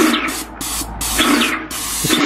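A Parkside airless paint sprayer sprays water in a loud, steady hiss close by, broken by a few brief pauses.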